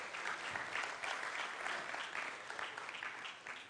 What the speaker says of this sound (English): A round of applause to Primetime Ghana Limited.